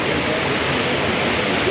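The Aling Aling waterfall gives a loud, steady roar of rushing water, an unbroken broadband wash with no pauses.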